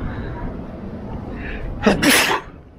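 A single loud, sharp sneeze bursts out close by after a quiet stretch of faint background noise.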